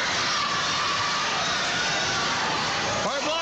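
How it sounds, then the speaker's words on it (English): Wrestling arena crowd roaring in a dense, continuous wall of cheering and shouting, with a commentator talking over it. "And the crowd starts that staccato chant behind Mark."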